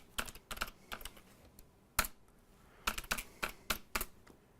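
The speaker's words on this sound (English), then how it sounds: "You're actually going to type rmdir, remove directory." A command is typed on a computer keyboard in a quick string of close, crisp keystrokes, irregular in rhythm with one heavier key press, and no talking.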